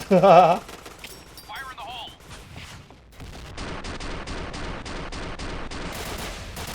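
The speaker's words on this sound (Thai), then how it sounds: "ยิงอะไรอ่ะ" Point Blank video game gunfire: rapid automatic bursts crackle steadily through the second half after brief loud game effects and chatter, with voices talking near the start.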